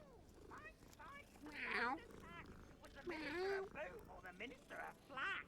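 A little ginger cat in Hogwarts Legacy meows repeatedly in short, rising mews, fairly near and moderately loud, mixed in with a person talking throughout.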